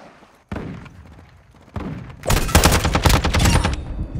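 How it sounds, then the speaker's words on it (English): Modern Warfare 2 game gunfire: a sharp single thump, then another, then a dense sustained burst of loud rapid shots that continues to the end. "Taking fire!"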